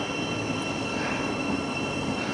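Thameslink commuter train rolling on rails near Mill Hill Broadway station, a steady, loud broadband rumble and hiss throughout with no distinct clacks or squeals and no talking.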